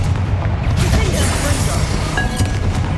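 Fiery Confringo spell cast in the Hogwarts Legacy video game, a continuous loud roaring whoosh with heavy low rumble and crackling bursts throughout, close and dense with no pause.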